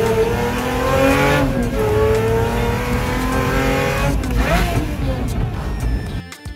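Pagani Utopia sports car engine revving loud and close, pitch rising and falling through gear changes across several seconds, with a voice speaking faintly over parts of it.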